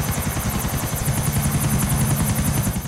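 Helicopter in a GTA game flying close overhead, a steady loud rotor thump with a rapid pulsing beat and constant engine whine throughout, with no talk.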